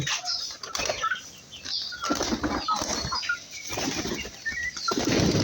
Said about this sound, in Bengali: আপনি দেখতেই পাচ্ছেন এখানে কবুতর কতগুলো আছে